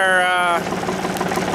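A tractor engine runs while towing a 6x10-foot trailer, first a steady harmonic drone and then a rougher, broader rumble, close and loud throughout.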